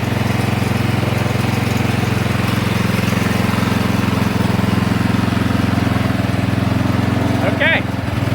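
Cub Cadet HDS lawn tractor engine running on bad gas, a loud steady close drone throughout, with a voice speaking over it near the end.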